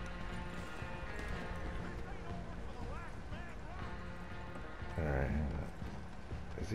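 Horse hooves clip-clopping in Red Dead Redemption 2 Online, a steady galloping rhythm under game music and ambience, with a voice talking over it and a louder burst of sound near the end.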